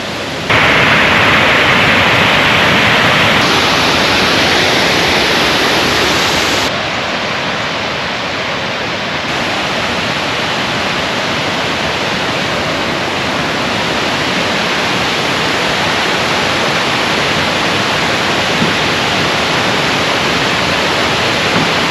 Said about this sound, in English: One of the most beautiful waterfalls in the world.